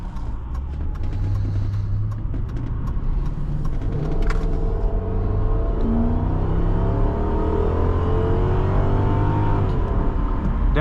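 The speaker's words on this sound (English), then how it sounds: "that V8 sounds fantastic" A 2005 Ford Thunderbird 50th Anniversary V8 accelerating on a night drive, heard from inside the cabin as a steady low rumble that climbs in pitch and grows louder partway through, with no talking.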